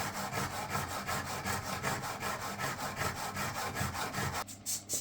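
Rhythmic back-and-forth rasping as a homemade marking knife is honed on inexpensive fine and extra-fine diamond plates, steady close strokes about twice a second that stop near the end.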